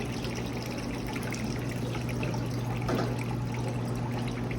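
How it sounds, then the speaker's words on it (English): Water runs steadily to rinse out a commercial fryer after an oil change, a continuous rushing flow with a low pump-like hum beneath it and no talk. "Water's running pretty good. I'm going to let that rinse out completely."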